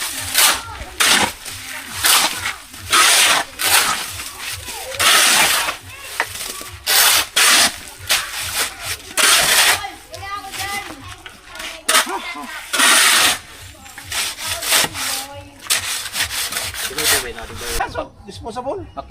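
A hand saw cuts through coconut lumber in repeated rough rasping strokes, loud and close, with pauses between bursts while people talk nearby.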